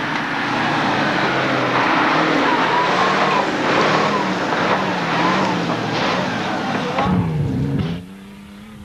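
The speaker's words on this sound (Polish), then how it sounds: "Za kierownicą wysoko podskakującego Urala" A Ural truck bounces hard along a 1994 off-road rally course, its engine roaring loudly and continuously with rattling and shifting pitch, then the sound cuts off sharply near the end.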